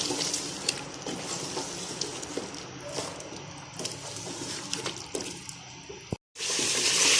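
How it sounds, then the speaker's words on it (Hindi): Korma masala, roasted chopped coriander and other spices fry in a pot of yogurt-based mutton korma, giving a steady, close sizzle with faint stirring scrapes that cuts out briefly near the end before returning. "इन सब मसालों को हम अच्छे से भून लेंगे।"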